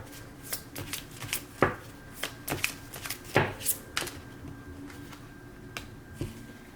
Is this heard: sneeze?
no